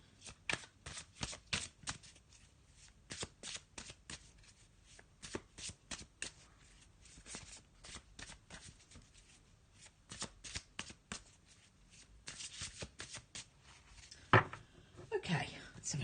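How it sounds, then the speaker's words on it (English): Tarot card deck being shuffled by hand, a quick series of soft papery riffles and taps repeating in bursts, close and fairly quiet with no talk. "let's have a little shuffle of the Faulkner Tarot deck"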